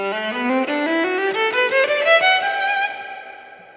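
A violin played through the regular violin preset in Loopy Pro runs a short rising melodic line of sustained, bright bowed notes, close and alone, before the last note rings out and fades.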